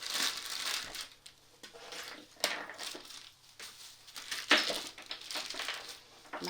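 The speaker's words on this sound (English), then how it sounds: "I'm then going to unwrap my clay." Modelling clay being unwrapped from its plastic wrapping, giving close crinkling and crackling rustles in uneven bursts, with a few sharper crunches, heard alone without talk.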